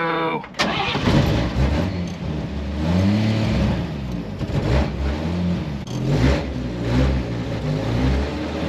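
1954 Chevy engine with fuel problems revving unevenly close by, surging and sagging in loud rough bursts with sputtering, while people talk over it.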